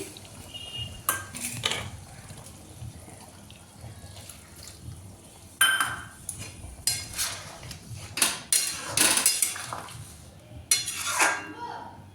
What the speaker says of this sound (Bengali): তারপরে এবার দেব গরম জল এরকম পাশে গরম জল করে রেখেছি